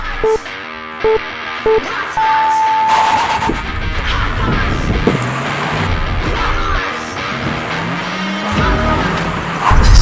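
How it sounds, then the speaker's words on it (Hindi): A 1.5-liter Hyundai Creta N-Line turbo SUV and a Creta Electric launch in a drag race: a few short tones, then loud engine roar and rushing sweeps as the cars accelerate away. "So Konark has challenged me for a drag race"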